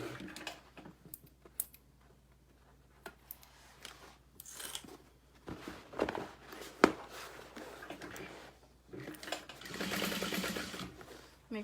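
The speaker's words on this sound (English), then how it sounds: "we're just gonna sew from one stitch line on the bottom panel to the next" Sewing machine stitching the bottom seam of an all-vinyl tote bag, running in short bursts with pauses and then a longer steady run near the end, with handling rustles in between.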